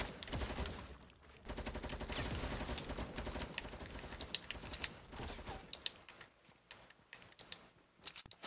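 Fast, continuous LMG machine gun fire in a Fortnite solo match, sustained rattling bursts for several seconds that break into sharper scattered shots toward the end.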